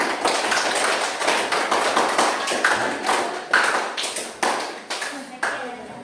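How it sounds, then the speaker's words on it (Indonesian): Applause from a classroom audience after a student group's presentation, a dense run of quick hand claps at steady volume that thins into separate bursts toward the end. "tepuk tangan."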